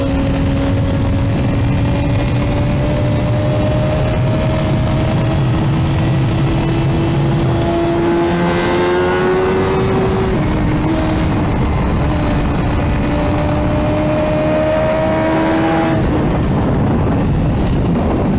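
A racing motorcycle engine drones loudly at close range as the rider brakes and drops gears into a corner, pitch falling and jumping with each downshift amid steady wind and road roar.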